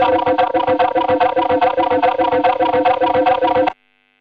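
A UAFX Orion tape echo pedal produces a dense, loud stream of repeating echoes with a pulsing rhythm and heavy saturation, cutting off abruptly near the end and leaving silence.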